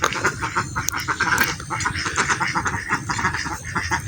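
Busy, overlapping duck quacks sound continuously and fairly close beside a river, a noisy flock calling over each other throughout.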